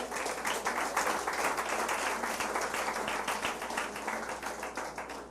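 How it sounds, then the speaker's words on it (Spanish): A church congregation applauds together for the Lord during a Spanish-language service led by a pastor, steady dense clapping filling the room for several seconds without a break. "Un aplauso al Señor"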